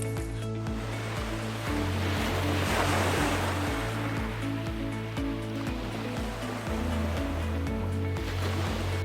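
Rough sea surging and crashing against a king crab fishing boat, a loud continuous wash with a steady rhythmic mechanical thumping beneath it, no voices.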